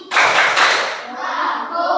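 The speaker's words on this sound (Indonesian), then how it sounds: "kita tepuk konsentrasi dulu" A classroom of Indonesian students performs the tepuk konsentrasi clapping chant, a dense burst of many hands clapping together, loud and close, with chanting voices mixed in.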